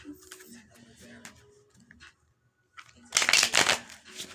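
A deck of cards is riffled and shuffled close by, giving a loud burst of rapid flapping clicks near the end, after quieter handling sounds and a voice talking.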